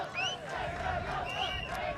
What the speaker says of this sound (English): the crowd are clearly calling for the Swedish team, they're calling for the Dutch team